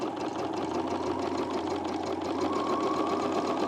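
A sewing machine stitches steadily and continuously at close range on an oversized plus-size blazer, its rapid mechanical whir holding an even level throughout.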